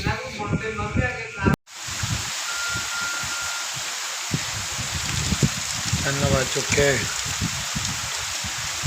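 Rain falls steadily at night in a village, a continuous broadband hiss that carries under the voices of people talking nearby.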